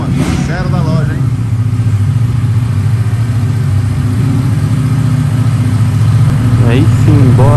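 A brand-new Ducati V4S idles at the dealership with a steady, deep, close engine burble, while voices briefly talk over it near the start and end.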